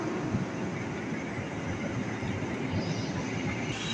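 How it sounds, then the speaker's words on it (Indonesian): A KRL commuter train bound for Cikarang or Bekasi pulls into a platform at Bekasi station, giving a continuous low rumble and broad roaring noise that stays fairly even throughout. "KRL ke Cikarang atau Bekasi udah nyampe tuh di peron"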